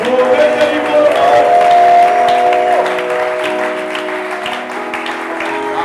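A church congregation applauds together, a loud, dense wash of clapping that swells and holds, then eases slightly while continuing steadily to the end.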